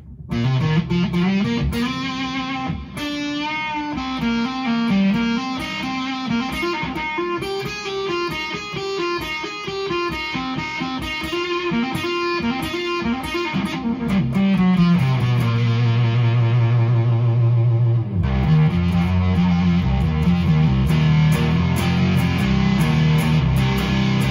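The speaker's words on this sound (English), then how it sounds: "Let's see how it responds with a little uh, reverb on there." A distorted electric guitar on its neck humbucker, played through an Onkel Amplification Death's Head fuzz pedal with a tube preamp, plays sustained chords and riffs with a fuzzy, saturated tone and a washy reverb tail, loud and continuous.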